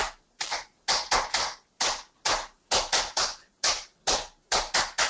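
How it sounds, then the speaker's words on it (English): Sharp hand claps come close and loud in an uneven rhythm, about twenty of them, some in quick pairs and triples with brief silences between. "So, you can start clapping your hands"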